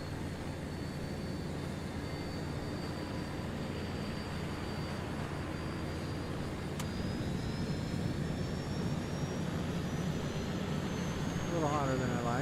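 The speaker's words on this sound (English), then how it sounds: "Love hearing those engines start up." Airliner jet engines spool up in Microsoft Flight Simulator 2020 on a Denver to Salt Lake City flight, a steady broadband roar with a slowly rising whine that keeps building, loud and continuous throughout.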